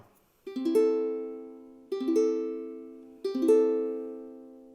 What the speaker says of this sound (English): So don't put any fingers on any of the strings and just strum.